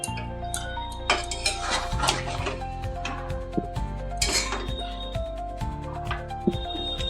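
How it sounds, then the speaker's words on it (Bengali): Lentil dumplings (bori) are stirred into a curry in a metal pot, with repeated clinks and scrapes of a spoon against the pot, close up and irregular over a low steady hum, without speech. "বড়ি দিয়েও একটু ভালো করে মিশিয়ে নেড়ে চেড়ে দিচ্ছি"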